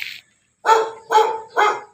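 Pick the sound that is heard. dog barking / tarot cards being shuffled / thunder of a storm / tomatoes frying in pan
dog barking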